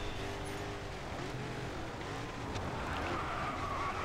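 A race car engine in the Grid 2 racing game roars steadily at high revs, with tire squeal and skidding woven through and other cars passing, close and constant throughout.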